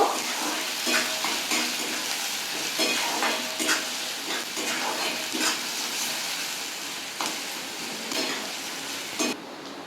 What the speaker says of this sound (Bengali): পেঁয়াজটাকে আমি একটু বাদামি কালার করে ভেজে নেব